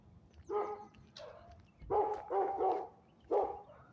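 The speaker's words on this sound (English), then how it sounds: "These dogs are barking." Several dogs bark outdoors on a spring walk in Henry County, near Stockbridge, Georgia, in short loud bursts spaced a second or so apart, with no talk.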